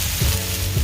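Bean sprouts hit a pan of melted butter and sizzle in a short, close, crackling hiss.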